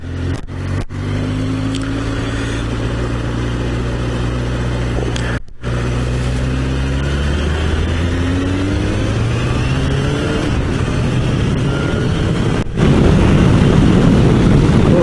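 A Honda CBR1000F motorcycle engine runs steadily and loudly up close on the road, its pitch rising and falling through gear changes with sustained revving and a strong low rumble.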